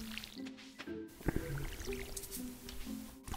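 Watering crops with a watering can in the farming video game Stardew Valley: small splashy, squishy water sounds and soft drips over faint game tones, close and fairly quiet.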